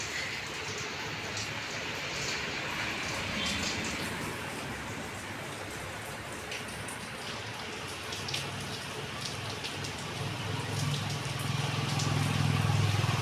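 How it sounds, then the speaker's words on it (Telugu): Heavy rain in Banjara Hills, Hyderabad: a dense, steady hiss of rainfall with scattered drips and splashes on hard surfaces, continuous and fairly loud throughout, with a faint low rumble rising near the end. "హైదరాబాద్ బంజారా హిల్స్లో చూడండి ఎంత వర్షం పడతా ఉందో"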